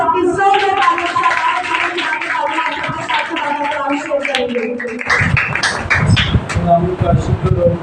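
A congregation at a Pakistani Christian church service bursts into loud, sustained clapping, rising after a stretch of amplified singing and speech.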